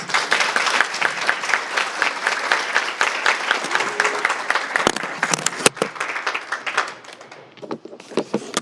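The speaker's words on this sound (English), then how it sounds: "Can we give him another round of applause?" A room full of people gives a sustained round of applause for a presenter at a Mayan culture learning session, dense and steady clapping that thins out and tapers toward the end.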